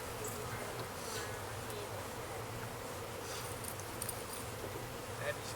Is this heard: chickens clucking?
no